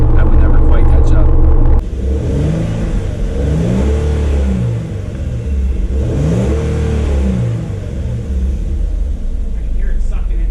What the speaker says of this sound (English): I can hear it sucking in the air.